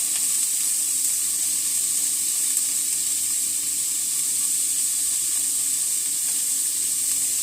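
Food sizzles and fries steadily in a pan on a stovetop as pieces cook and brown. A constant, loud, even hiss runs throughout with no talking.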